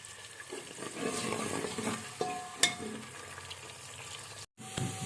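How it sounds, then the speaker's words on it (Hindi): Onions browning in about half a cup of oil in a pan crackle and sizzle steadily, with a few sharp clinks of a utensil, a brief gap near the end, and then the frying resumes. "आधा कप मैंने ऑयल ले लिया है। उसमें प्याज इस तरीके से ब्राउन होने के लिए छोड़ दिया है।"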